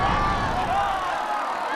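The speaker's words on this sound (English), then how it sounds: "The crowd is on its feet!" A Quidditch crowd roars and cheers in the Harry Potter and the Sorcerer's Stone PS1 game, a loud sustained wash of stadium noise that eases off toward the end.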